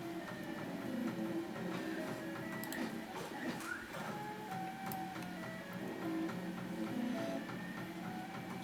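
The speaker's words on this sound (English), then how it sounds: "the printer is printing it like this" A Da Vinci Pro 3D printer printing Proto-Pasta HTPLA in spiral mode, giving a continuous whirring stepper-motor drone with shifting whines and soft mechanical ticks, steady and close with no voices.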